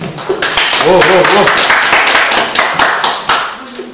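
An audience at a Korean village community roundtable gathering gives a burst of close, loud hand clapping with distinct irregular claps, while someone talks over the first part.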